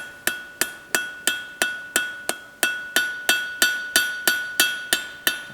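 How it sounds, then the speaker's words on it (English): A hammer strikes a hot steel staple on a blacksmith's anvil in a steady, evenly spaced series of about seventeen bright, ringing blows, each leaving a metallic ring that decays before the next, loud and close with no talking. "if I stick it on the anvil"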